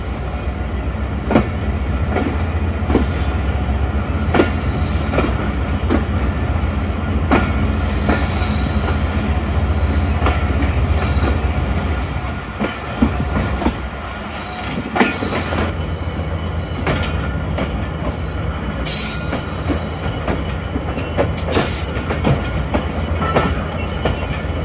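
The 15Up Karachi Express rolls through the long Sahiwal station platform with steady wheel rumble, rhythmic clickety-clack and occasional squeals, loud and close, easing briefly midway before rumbling on.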